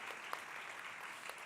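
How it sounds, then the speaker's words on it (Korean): Church congregation clapping in welcome during a Korean young adults' Sunday service, a steady, fairly faint wash of many hands with a few sharper claps standing out. "잠깐 일어나시면 박수로 환영하겠습니다"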